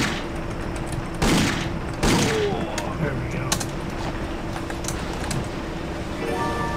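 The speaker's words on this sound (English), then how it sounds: "Let's just get out the regular gun." Game gunfire from a regular pistol aboard a ship in Indiana Jones and the Infernal Machine, two sharp shots about a second apart over a steady mechanical ambient hum, with a few fainter clicks after.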